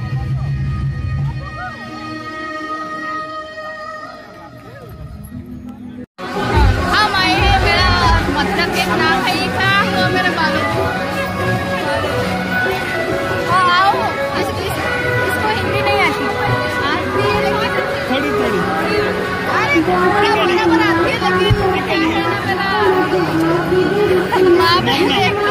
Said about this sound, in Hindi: देखिए यहाँ पर मेला लगी है, तो बहुत सारे लोग हैं